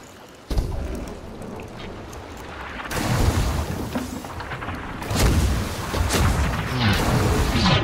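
Ship cannons firing in a pirate-style naval video game, a series of heavy booming blasts with rumbling tails, the first sudden and loud, then more shots layered over a continuous roar of sea and battle.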